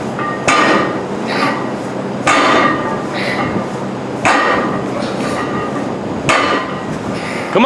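An axle barbell clanks down and rattles in touch-and-go deadlift reps in a gym, four heavy metallic impacts spaced about two seconds apart, with rattling and strained breathing between them.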